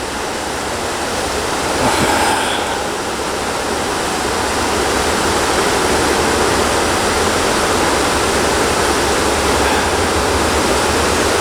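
A river flows in a broad, loud, continuous rush of water, steady throughout like a waterfall or heavy current, with no voices.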